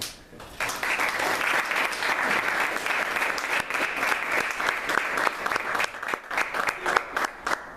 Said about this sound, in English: Let's give another round of applause to Jordan